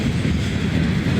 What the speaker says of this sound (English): Gondolas pull us up. Probably got steel slabs in them. They're rumbling.